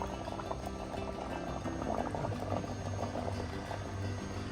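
Fish curry in a clay pot bubbling steadily on the stove, a continuous close simmering and popping with no talk.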